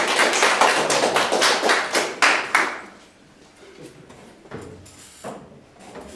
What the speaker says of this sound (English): Round of applause for Great Britain,